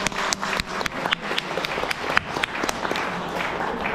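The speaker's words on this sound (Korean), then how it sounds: "여러분 큰 박수 부탁드립니다" Wedding guests applaud at a ceremony, a steady crowd of sharp hand claps filling the room at moderate loudness, with no voices standing out.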